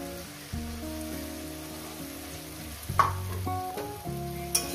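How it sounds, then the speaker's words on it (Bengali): Spice paste, tomato and green chili sauté in a pan for fish curry, giving a soft steady sizzle with occasional stirring scrapes and clinks under background tonal music. "এটা সুন্দর করে আমি কষিয়ে নেব মিনিট 4 ধরে"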